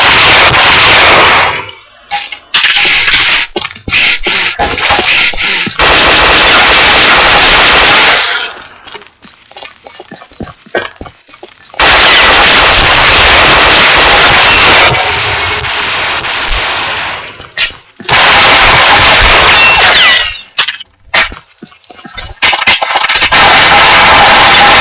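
Desert Eagle pistol fire in the video game Combat Arms during a pistol arena round: loud bursts of shots come in long stretches, broken by short quiet pauses, with no talking.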